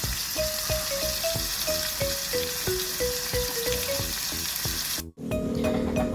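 Onions sautéing in a pan for a Filipino vegetable dish, a steady broadband sizzle with a series of light tonal scrapes and knocks from stirring, continuous throughout apart from one brief dropout near the end.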